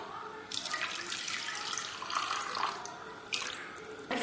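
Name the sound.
water being poured into a cooking vessel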